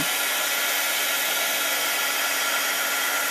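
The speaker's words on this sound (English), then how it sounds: "what I want to do is heat from the bottom so I don't blow away my fragments" A handheld crafting heat tool blows hot air beneath a card to melt embossing fragments, giving a loud, steady, close whoosh that holds unchanged from start to finish.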